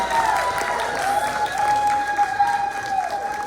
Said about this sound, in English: please give another round of applause to our cast and crew and everybody who made this day possible